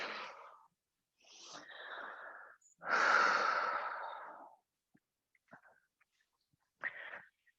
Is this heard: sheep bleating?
no